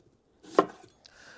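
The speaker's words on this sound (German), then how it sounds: "während also der Speck jetzt in der Pfanne langsam warm wird, schneiden wir hier eine Gemüsezwiebel auf" A kitchen knife cuts through a sweet onion on a board, giving one sharp, close chop followed by a faint trailing scrape, with quiet surroundings and no voices.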